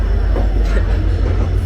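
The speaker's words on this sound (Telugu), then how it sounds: "So powerful engine, diesel engine, old version, diamond version." An old diesel-hauled passenger train rolls in at Kacheguda station, with a deep rumble of engine and wheels, faint clatter and a brief squeal, loud and close.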